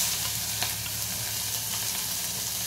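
Chopped onion fries with tempering seeds, turmeric and two green chillies, producing a steady close sizzle with light stirring scrapes and occasional crackles throughout.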